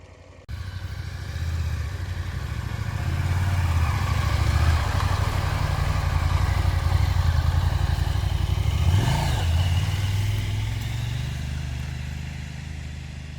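A 2025 KTM 890 Adventure R motorcycle rides off-road with a steady, loud engine drone heard up close from the rider's position, with wind rush and a brief rise in pitch near the middle.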